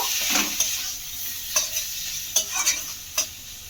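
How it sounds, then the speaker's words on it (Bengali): Potatoes sizzle in hot oil that has begun to separate, for an egg curry, with a steady fry hiss under several distinct close spatula scrapes and stirs spaced through the clip, no voices. "তেল কিন্তু ছাড়তে শুরু করেছে। একটুখানি নেড়ে দেব।"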